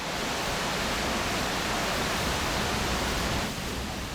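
A 60-metre waterfall tumbling over limestone rock gives a steady, dense broadband roar that stays even and unbroken throughout, heard alone with no voices.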